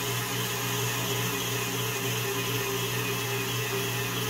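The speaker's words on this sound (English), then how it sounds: "I'm just saying that this is a great mixer." A KitchenAid stand mixer runs at a steady, even hum and whir, constant and moderately quiet throughout, with no voices.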